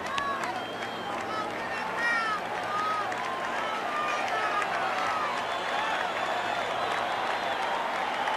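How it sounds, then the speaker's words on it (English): Shea Stadium crowd during a Mets–Dodgers playoff game, roaring steadily with two strikes on Dwight Gooden's batter, a dense sustained wash of cheering and clapping with scattered whistles throughout. "Shea Crowd, as is customary with 2 strikes, and particularly customary with Dwight Gooden, looking for the strikeout"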